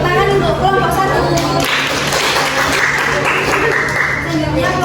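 Classroom applause for the first student group after a marketing microteaching presentation, a burst of clapping breaking out midway and continuing steadily over a low hum and background talk.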